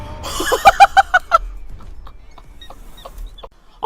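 A chicken creature in the Palworld video game clucks in a quick run of sharp, evenly spaced squawks, then trails off into faint scattered game sounds.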